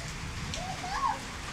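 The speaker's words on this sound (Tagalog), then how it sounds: "Ulan yan, ulan." Steady rain falling outdoors, a soft continuous hiss of drops with a faint brief voice-like sound partway through.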